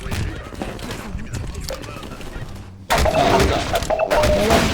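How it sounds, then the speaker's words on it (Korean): Gunfire in Half-Life 2 as Combine soldiers are shot: scattered thumps and shots give way to a sudden, louder burst of sustained firing near the end. "콤바인들을 보 때마다 지금부터 이제 쏴 죽여줄 거예요"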